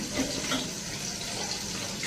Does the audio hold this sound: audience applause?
no